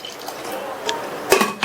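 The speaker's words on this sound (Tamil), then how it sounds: "350 ml தண்ணி சேர்க்குறேன்." Water poured into a cooking pot in a home kitchen while preparing a vegetarian lunch, with a soft liquid splash followed by a few sharp clinks of metal pots and utensils close by.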